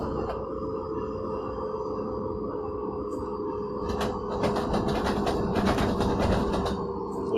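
A simulated InterCity Express train running southbound from Hamburg to Hanover in Train Simulator 2016, with a steady low rumble and hum of the moving train and a rise in clattering, rattling noise partway through.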